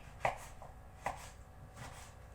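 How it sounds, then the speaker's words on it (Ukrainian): A knife slices eggplant thinly on a board: two crisp, close cuts about a second apart, then a softer third stroke, in a quiet kitchen with no talk. "Баклажанчик тоненько ріжемо і будемо обжарювати."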